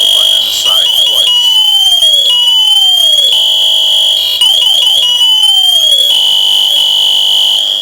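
A loud, piercing electronic alarm from a firefighter's SCBA PASS device shrills continuously, its tones sweeping repeatedly in fast chirping bursts over a steady high whine.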